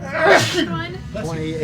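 A single sharp sneeze bursts out close by during a tabletop Dungeons & Dragons session, followed immediately by a short spoken question.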